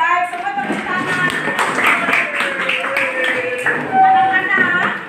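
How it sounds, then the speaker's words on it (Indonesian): A classroom of schoolchildren claps hands together in a steady, dense patter, with children's voices calling out over the clapping throughout. "semua tepuk tangan"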